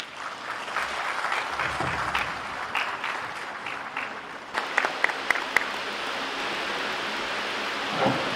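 Sustained applause fills a university special congregation hall, a steady rain-like patter of many hands that continues throughout, with a few sharper claps standing out partway through.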